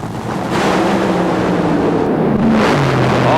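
Thunderous roar of an NHRA top fuel drag racing car at Topeka, a loud sustained engine blast that swells again near the end, with no talking.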